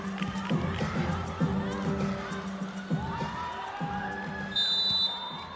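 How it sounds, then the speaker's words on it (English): A women's volleyball crowd at the 2019 VNL match between China and Italy cheers a block, with rising shouts and whoops swelling in bursts, while commentators talk over the noise. "And the crowd thoroughly enjoyed that one."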